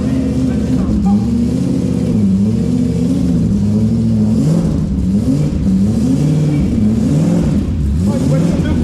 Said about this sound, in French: Oh, une voiture de course, une vraie.